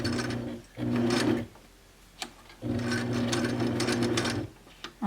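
A sewing machine stitches a quilt in short forward and backward runs, a steady loud whirring motor that stops and restarts several times with brief pauses and small clicks between bursts.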